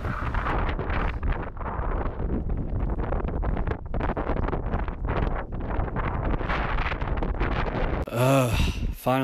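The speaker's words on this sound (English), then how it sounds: "the wind's dying down a bit" Strong, steady wind buffets the microphone on a snowy Colorado 14er ridge near Mount Belford and Mount Oxford, a continuous roaring rush that briefly surges louder near the end.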